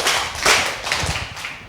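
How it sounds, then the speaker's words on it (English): A classroom of students gives two big claps in a math lesson, heard as a couple of sharp, close bursts of many hands clapping together, fairly loud, with brief softer patters trailing between them. "Let's give her 2 big claps."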